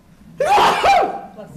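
A single loud, sharp sneeze bursts out close by, with a brief voiced burst and breathy tail.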